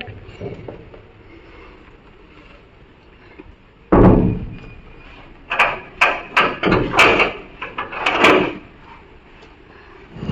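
A door is pushed shut with a heavy thud, followed by several rattling clunks and knocks as it settles, over a low background rumble.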